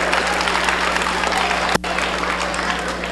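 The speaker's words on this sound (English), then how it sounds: "Y'all give her a round of applause." Steady applause from a seated school audience in a hall, a dense even wash of clapping that continues throughout with a brief dropout partway, loud and close.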